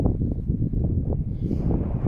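Strong wind on Brown Clee Hill buffets the microphone in a steady, low rumbling roar with gusty fluctuations throughout.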